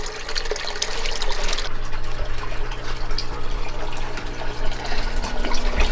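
Water pouring steadily into a fish pond stocked with bass, a continuous loud gushing and splashing stream that lasts throughout.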